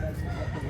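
A rooster crows in a brief, steady call at moderate distance, set against low background noise at a poultry sale in Consolacion, Cebu.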